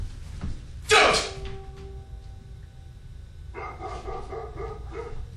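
Dogs bark in a sharp burst near the start, with a short yelp, then a few softer barks and whines follow over faint background noise.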